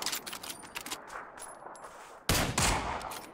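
Gunfire in the video game PUBG: scattered distant shots followed by a sudden loud burst of nearby automatic fire with metallic pings.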